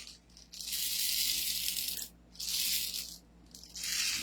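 BB pellets poured into an MP5 toy gun magazine make a loud, dense rattling rush in three bursts separated by brief pauses, close up and with no talking.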